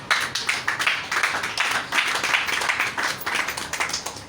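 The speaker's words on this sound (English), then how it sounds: "I think they deserve a round of applause" Audience at a workshop clapping steadily throughout, a dense patter of hand claps at moderate volume with no speech over it.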